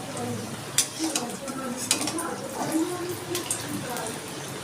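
Papads frying in hot oil, a soft continuous bubbling sizzle with occasional sharp clicks of a utensil against the pan, faint and close, with a voice murmuring at times.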